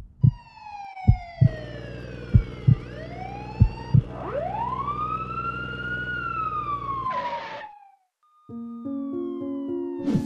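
Police car siren from a Minecraft game, a loud wailing tone sweeping up and down over a steady electronic backing with several sharp thuds early on, briefly cutting out before resuming.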